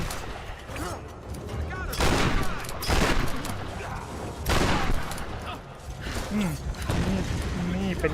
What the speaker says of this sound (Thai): ขอลูกซองก่อน โอเค ตึ้ง